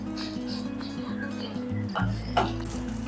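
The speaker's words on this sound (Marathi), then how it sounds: "तेल तापलं की मग आपण त्याच्यामध्ये ही जी तुकडे केलेली फरसबी घालणार आहोत" Chopped green beans tipped into hot oil in a pan, giving a brief clatter and soft sizzle over a steady background hum.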